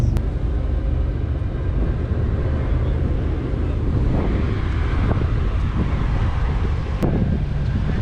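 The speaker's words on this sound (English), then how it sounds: "Pretty windy here today, so trying to work with what we got." Steady wind buffets the microphone throughout at an outdoor Malibu cars and coffee meet, a constant low rumble with a couple of brief thumps.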